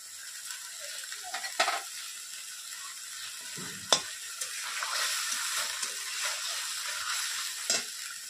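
Spices fry over low heat in a pan for Bengali doi potol, a steady quiet sizzle broken by scraping stirs and a few sharp clacks of the utensil against the pan.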